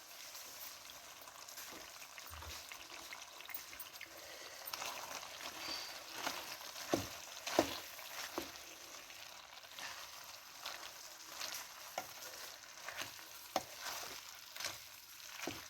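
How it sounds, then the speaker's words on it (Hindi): Fenugreek leaves stirred into potatoes frying in a pan: a faint, continuous low sizzle with scattered soft scraping and tapping stir strokes, heard close up, quiet and alone without talking. "देखो अब मैं इसके अंदर माशाल्लाह मेथी डाल देने लगी"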